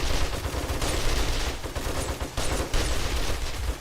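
Rapid continuous gunfire in 7 Days to Die, loud and close, with sustained bursts and brief gaps rather than single spaced shots.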